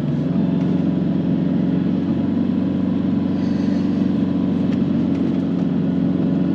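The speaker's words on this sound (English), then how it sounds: "We're just driving on the soft sand as if we would be trying to get up to our camp spot." A Nissan Patrol N80 four-wheel drive moving slowly over soft sand, its engine giving a steady, loud mid-pitched drone from inside the cabin with no voices.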